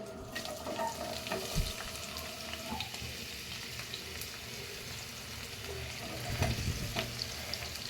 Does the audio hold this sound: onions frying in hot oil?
yes